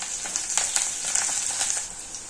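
Five or six cut green chillies frying in hot oil for chaat, a bright crackling sizzle with small pops, close and steady through the short moment.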